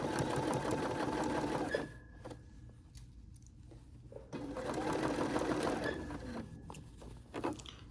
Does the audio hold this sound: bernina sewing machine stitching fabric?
yes